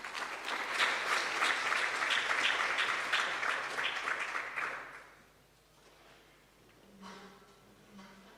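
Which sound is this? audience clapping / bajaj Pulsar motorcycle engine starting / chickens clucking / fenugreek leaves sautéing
audience clapping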